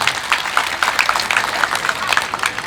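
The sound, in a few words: audience applause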